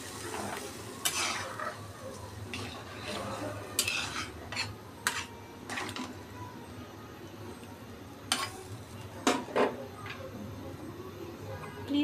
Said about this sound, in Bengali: পরিমাণ মতো ঝোল দিয়ে দিব।